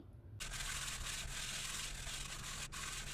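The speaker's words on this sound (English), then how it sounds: "sanding the bottom of the hull" A sand block rubs steadily across the bottom of a twin-motor RC boat hull, a continuous close scratchy abrasive sound with a short pause near the end.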